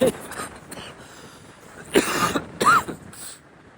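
Two short, harsh coughs ring out near the end after a quiet stretch on a hike up Pen y Fan, close and fairly loud.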